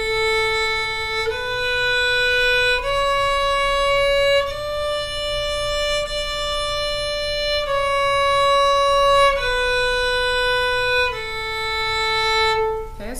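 A violin plays a beginner block-fingering pattern, open string then first, second and third fingers and back down, as eight sustained bowed notes stepping up and down evenly, clear and close.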